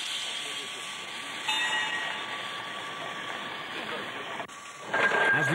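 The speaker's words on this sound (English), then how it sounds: "the safety valve was set to blow once full steam was achieved" Safety valve on a steam digger's boiler blowing off at full working pressure of 80 psi, a steady, sustained hiss of escaping steam that swells louder toward the end.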